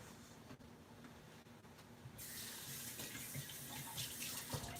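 Tap water running while being added to cookie dough, a faint trickle that suddenly opens into a steady, hissing stream partway through, close and alone with no talk.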